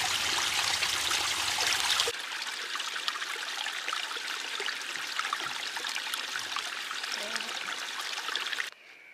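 Cold mountain stream water flowing steadily on the Pacific Crest Trail, a continuous trickling rush, louder in the first seconds and then softer, with no talk.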